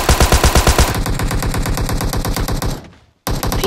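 Automatic gunfire rattles in PUBG Mobile, loud and close: a rapid, steady string of shots that briefly cuts to silence and then resumes.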